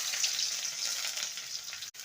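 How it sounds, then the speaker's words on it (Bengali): Chopped onion hitting hot oil tempered with black cumin seeds, a loud continuous frying sizzle close up that holds steady and cuts out briefly near the end. "তেলটা ভালো মতন গরম হয়ে গেছে, এবার ফোড়নে দেবো হাফ টিস্পুন কালো জিরে। এবারে দিয়ে দেবো পেঁয়াজ কুচি।"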